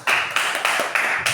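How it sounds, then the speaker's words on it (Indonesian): Students in a classroom clap in unison, about five evenly spaced group claps in quick rhythm. The claps are close and fairly loud. "Beri tepuk tangan"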